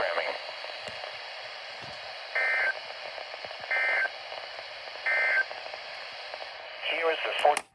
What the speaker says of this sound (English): This concludes the test of the new weather radio warning alarm device and emergency alert system.